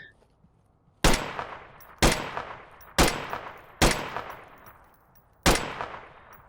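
A rifle fires in a video game: five single sharp, loud shots, each with a ringing tail, spaced about a second apart with one longer pause.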